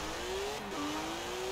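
A fast car engine in a video game accelerates steadily, its pitch climbing with one brief gear-shift dip, loud and continuous with no talk.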